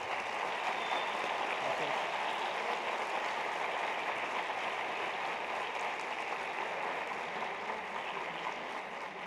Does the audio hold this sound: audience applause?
yes